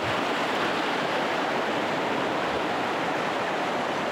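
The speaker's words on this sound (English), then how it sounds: "This is a very cool creek though." A mountain creek in the Appalachians rushes steadily, a dense and continuous wash of flowing water, close and loud with no voices.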